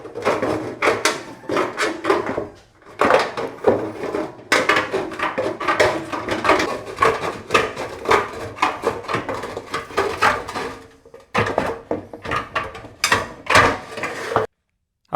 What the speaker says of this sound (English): so we're going to try cutting with the right hand with these snips here